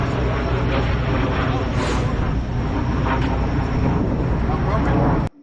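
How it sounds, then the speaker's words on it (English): A formation of aircraft passes overhead at an airshow, a loud, sustained broadband engine roar that fills the whole stretch, with a brief sharper whoosh partway through, while people talk underneath. "then we got a formation flying overhead"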